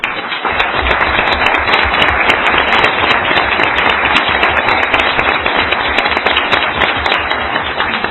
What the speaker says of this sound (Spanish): me permito pedirles un aplauso